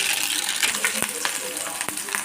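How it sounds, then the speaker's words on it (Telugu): Tempering seeds hit hot oil in a pan for a village-style dish, giving a dense, steady sizzle with scattered sharp pops and crackles close by. "ఆయిల్ వేసాను, తిరగమాత గింజలు,"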